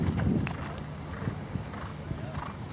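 Horses canter over ground poles in a riding arena, muffled rhythmic hoofbeats under a commentator's voice, with a brief whinny early on.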